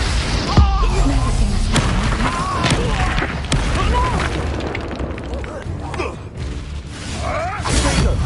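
Booming Confringo spell explosions erupt in the Hogwarts Legacy video game, loud bursts and crashes layered over continuous combat noise while voices talk and shout throughout.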